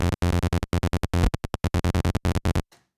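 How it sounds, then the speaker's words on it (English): Arpeggiator sequence on an Access Virus TI synthesizer, a fast run of short, loud, bright gated notes in a steady pulsing rhythm, stopping abruptly with a brief tail at the end. "I've already created a sequence in the arpeggiator."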